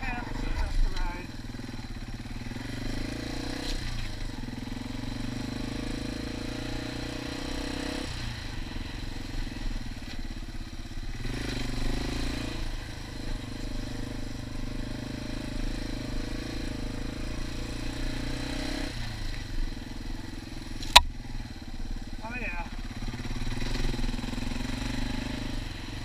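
Yamaha TW200 dual-sport motorcycle ridden along wooded trails and paths, its engine a steady mid-pitched drone that rises and falls with throttle changes, with a sharp click near the end.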